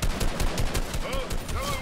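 Rapid bursts of Midas drum gun fire in the Fortnite video game, dense repeated shots running steadily through the moment with little pause, loud and close, with whistling game effects layered over the gunfire.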